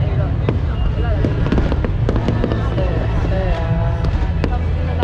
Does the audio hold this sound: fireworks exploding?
yes